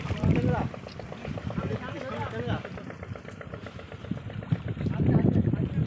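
A motorised country boat (bhotbhoti) chugs on a Sundarban river with a steady, fairly close engine putter beneath people talking.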